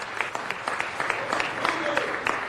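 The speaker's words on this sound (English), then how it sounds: "Give them a round of applause." Short burst of audience applause for a high school government leadership class at a city council meeting, a room of hands clapping briskly with individual claps standing out, fairly close and steady throughout.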